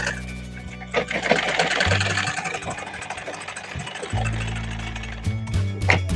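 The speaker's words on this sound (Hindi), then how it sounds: "इसी तरीके से इधर भी हम सिलाई को ज्वाइन कर लेंगे।" An electric sewing machine stitches a blouse seam with a steady mechanical whir that starts, stops and restarts in bursts, close and loud, with no talking.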